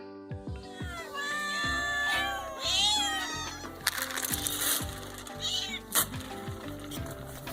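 Hungry farm cats meow loudly and persistently, several overlapping cries and drawn-out wails close by, with occasional knocks and rustles in between.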